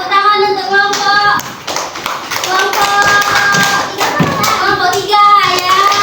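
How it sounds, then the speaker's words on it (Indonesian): Primary school students in a classroom applauding a group after its presentation, steady close hand clapping mixed with children's voices and chatter throughout. "tepuk tangan untuk kelompok"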